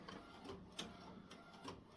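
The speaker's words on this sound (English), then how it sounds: "if you can hear the printer, that is the other image for the other t-shirt printing" A DTF printer prints a t-shirt transfer, its print head shuttling back and forth with a steady mechanical whir and periodic clicks at each pass, fairly close, with no talking.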